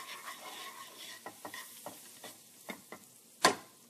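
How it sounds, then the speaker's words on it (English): Crushed pistachios sear in a pan after scallops are cooked, with soft sizzling and a series of light stirring scrapes and taps, ending in one sharper clack, close and without talking. "Just give them a little sear."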